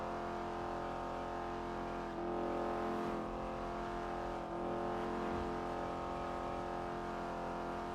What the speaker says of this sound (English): it gets to the high revs every time I let off the gas and go back to top speed